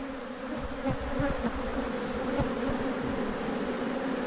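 Killer bees swarm around a hive inside a shed, a dense, steady droning buzz filling the space up close, loud and continuous with no talking.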